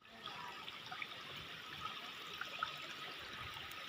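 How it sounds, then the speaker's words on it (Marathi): Water flows steadily near a temple in a Konkan village, a faint, continuous trickling rush heard at a distance with light outdoor ambience and no talk. "पाणी वाहतंय ते मी दाखवते तुम्हाला"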